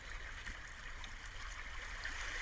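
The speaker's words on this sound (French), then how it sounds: "La caresse des vagues qui se déposent sur la plage" Sea waves wash gently onto a beach, a faint, soft, continuous watery rush with no voices.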